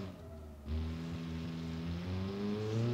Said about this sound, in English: it sounds like a car back from that era